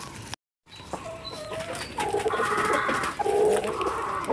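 Newly arrived chickens from Guihulngan cluck and coo close by in a yard, with a brief dropout early on followed by steady overlapping bird calls.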